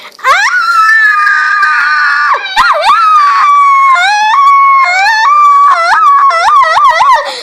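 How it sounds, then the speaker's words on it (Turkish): High, sustained shrieks and wavering wails that rise and fall almost without a break, loud and close, like several voices screaming at once. "bunların çığlığı bitmeyecek gibi gözüküyor."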